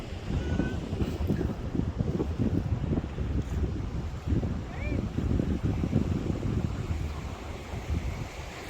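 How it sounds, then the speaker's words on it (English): Gusty wind buffets the microphone over the steady wash of surf on the Cretan coast, with a person talking faintly at times. "it's still fairly windy. As you can see, there's still a fair surf on"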